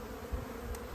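Honey bees crawl on the comb during a late-winter hive inspection, giving a faint, steady buzzing hum close by without any talk.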